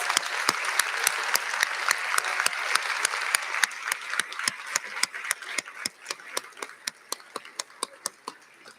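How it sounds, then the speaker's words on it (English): Applause at a university commencement ceremony, a full crowd clapping steadily that gradually thins out into a handful of distinct, separate claps. "Let's give all of them a round of applause."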